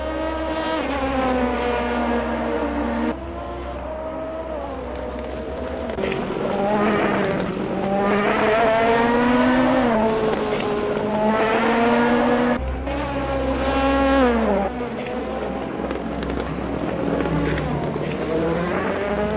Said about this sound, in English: The first cars are already out on track